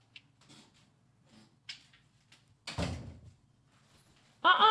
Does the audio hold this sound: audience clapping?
no